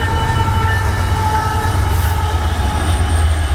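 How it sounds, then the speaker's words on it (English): A CP Rail freight train rolls past with a steady, loud low rumble of wheels on track and a faint high squeal throughout. "Look at CP Rail Train."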